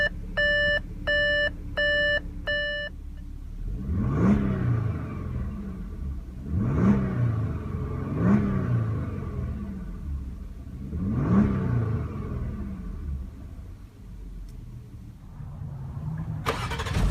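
A 2016 Audi A7 3.0T Quattro starting by push button: a chime beeps several times, then the engine turns over and settles into a steady idle that swells in a few rhythmic surges.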